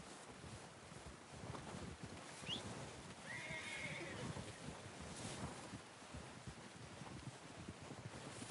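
Horse whinnying in the Red Dead Redemption 2 video game, a faint, brief neigh outdoors amid steady wind noise, heard distantly without any talk.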